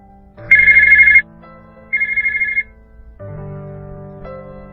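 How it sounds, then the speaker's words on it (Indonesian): A phone ringtone sounds in loud, electronic bursts, a long ring, a shorter one, then a lower sustained tone, with no voices. "Surat telepon di ponsel Azel"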